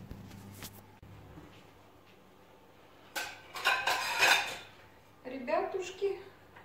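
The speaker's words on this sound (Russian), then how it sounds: "пока Лелёк тарелки себе приготовит" Dishes and plates clink and clatter in short bursts, close by, with a low background hum and some quiet activity between the clinks.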